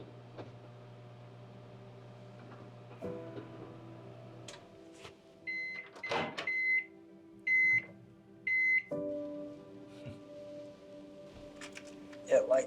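A microwave oven heating a Salisbury steak meal hums steadily, then gives three short, sharp electronic beeps in a row, followed by a fainter beep near the end, close and clear with no one talking.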